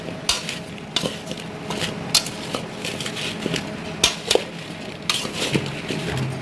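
Mango pieces mixed with salt and turmeric in a metal bowl for Gujarati jaggery mango pickle, giving soft irregular scraping and clinking of a spoon, moderately close, with no talk.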